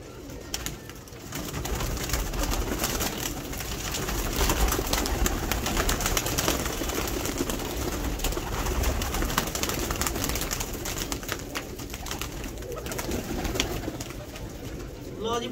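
Pigeons coo and flutter around a loft while birds are released, with a steady noisy outdoor background and some human voices throughout.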